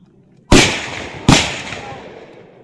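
Gunfire during women's SSC GD firing training at a range, heard as two loud sharp reports about 0.8 seconds apart, each with a long echoing tail. There is no speech.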